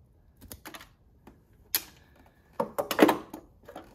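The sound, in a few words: cutting electrical wires to length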